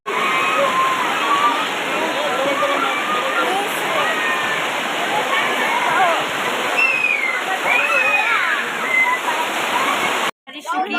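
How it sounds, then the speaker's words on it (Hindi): Heavy rain pours down steadily outside a temple during a Bhagavat festival, a dense continuous wash that hardly changes for about ten seconds before cutting out briefly near the end; voices can be heard faintly under it. "बाहर बहुत तेज बारिश होने के कारण अब इसको कवर कर रहे हैं"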